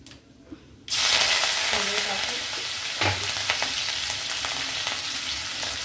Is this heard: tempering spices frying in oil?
yes